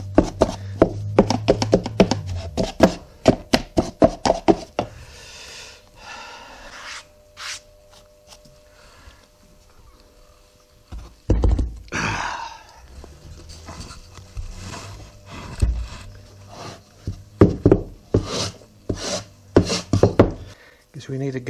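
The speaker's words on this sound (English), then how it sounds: "Clear away the sand and then turn the whole lot upside down and get the pattern out." Casting sand being cleared away and a pattern lifted from an aluminium casting mould: close scraping and rubbing with bursts of quick taps and knocks, a quieter stretch in the middle, then more rasping and tapping.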